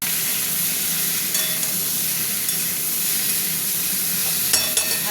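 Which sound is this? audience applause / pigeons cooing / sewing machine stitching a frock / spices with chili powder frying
spices with chili powder frying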